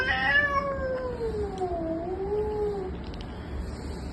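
A cat meows in a long drawn-out wail that slides down and then back up in pitch, loud and close, over a steady background hum with no talking.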